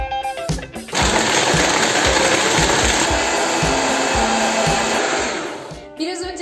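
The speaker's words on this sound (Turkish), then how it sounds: "Şimdi tüm malzemelerimi ekledikten sonra karıştırmaya başlıyorum." An electric blender whirs as it mixes a Nutella milkshake with whipped cream, running with a loud, steady high-pitched motor roar for about five seconds after a brief start, then winding down.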